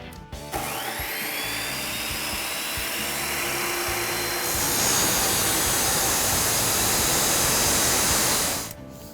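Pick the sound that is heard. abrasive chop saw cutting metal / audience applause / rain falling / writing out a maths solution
abrasive chop saw cutting metal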